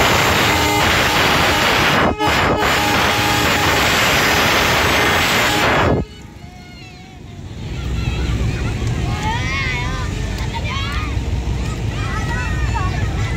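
A Pakistan Railways goods train crosses a road in a busy street, heard as a loud, continuous blaring horn and engine roar that cut off abruptly, leaving a rumble with wind buffeting and further horn tones.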